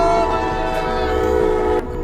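A train on railway tracks blares a sustained, loud horn while the heavy rumble of rail cars runs underneath, the horn cutting off near the end.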